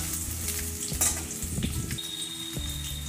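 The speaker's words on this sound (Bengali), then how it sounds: "আলুগুলো একটু লাল করে ভেজে নিতে হবে" Potato pieces frying in mustard oil in a wok, a bright continuous sizzle with a few stirring knocks and scrapes, close and fairly loud, no talking.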